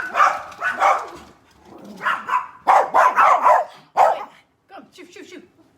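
A dog barks and yips indoors in a house in several quick, loud, close bursts, with a short whimpering tail at the end.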